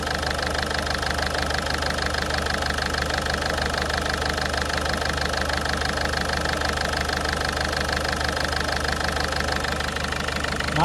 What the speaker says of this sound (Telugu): ఇంజిన్ యొక్క నాయిస్ కూడా మనకి క్లియర్గా రెడ్యూస్ అవ్వడం గమనించవచ్చు మిత్రులారా.